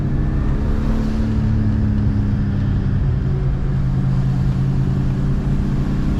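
Steady engine drone from a turbocharged Dinan BMW 535i E34 cruising on a mountain road, a loud, even cabin rumble with low harmonics and no talk.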